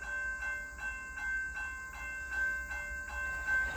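A CSX train led by a New York Central heritage locomotive rolls past. Its wheels make a steady, rhythmic clatter over the rail joints, with a faint tonal whine above it.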